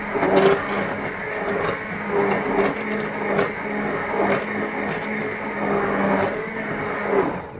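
A kitchen blender whirs steadily, pureeing carrot soup made with two stock cubes, a continuous motor drone with slight pitch wobble and no talking.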